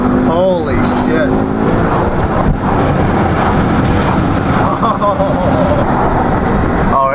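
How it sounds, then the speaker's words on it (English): A tuned BMW M5 accelerating hard on a highway merge, its engine a loud sustained roar mixed with heavy wind and road rush throughout, with a brief rising whine early on. "We're going to do a little bit of an acceleration run."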